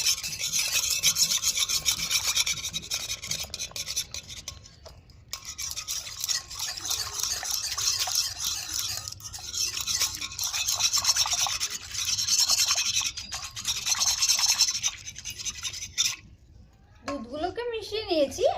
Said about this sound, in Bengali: কর্নফ্লাওয়ারটা দেওয়ার সঙ্গে সঙ্গে কিন্তু অনবরত নাড়াচাড়া করতে হবে